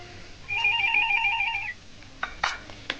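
A telephone in an old television drama rings with a warbling electronic double tone lasting about a second, followed by faint clicks and rustling in a quiet room.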